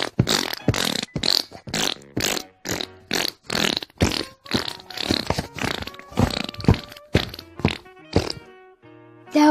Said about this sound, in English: That was the best fart ever!